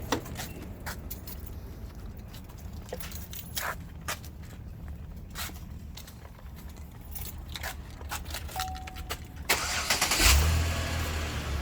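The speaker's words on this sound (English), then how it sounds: "So let me start the car." A 2011 Chevy Impala's starter cranks and the engine catches near the end, settling into a low idle rumble after several clicks and small mechanical clatters in a quiet garage.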